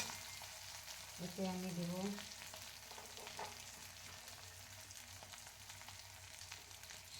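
Ginger and garlic frying lightly in a pan for a rohu fish kalia, a steady soft sizzle running throughout with a brief stirring scrape near the start; a voice speaks briefly over it.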